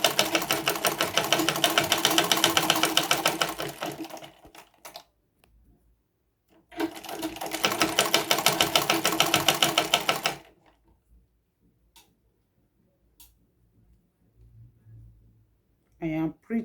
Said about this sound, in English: Start the sewing from the edge here.